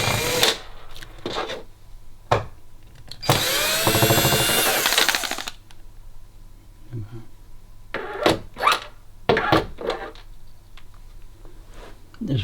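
A power screwdriver whirs in one sustained burst of about two seconds while backing screws out of the rear panel of an LG OLED 55B7A TV, with scattered clicks and handling knocks of loose screws and plastic around it.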